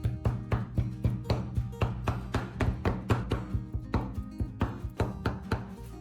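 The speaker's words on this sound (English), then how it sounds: "Take a small portion and slice it thinly, then chop it finely." Knife chopping pork finely on a board, with rapid, steady thuds repeating close and clear for several seconds, no talk.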